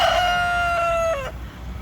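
A rooster crows loudly and close on a farm in Germany, one long cock-a-doodle-doo that falls off near the end, with faint clucking from chickens behind it.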